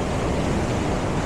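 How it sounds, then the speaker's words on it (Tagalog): Ocean surf at Casapsapan Beach in Casiguran, Aurora rolls in as a loud, dense, steady wash of noise, close and unbroken, with no talking. "I-appreciate lang natin yung karagatan."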